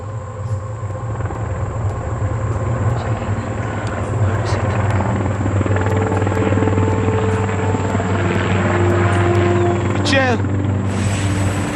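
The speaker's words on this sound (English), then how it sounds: "the crew of a Black Hawk chopper spots the crash site" A Black Hawk helicopter flies over a crash site, its rotor and engine droning loud and steady throughout, with a low rhythmic beat and a high whine, and a brief sweeping tone near the end.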